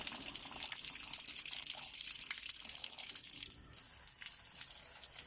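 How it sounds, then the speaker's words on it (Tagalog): Continuous rushing spray of water from a hose cleaning an automatic washing machine, steady and close, with a slight dip in intensity partway through. "gamitin din natin yung hose yung tubig ng hose para mabugahan siya"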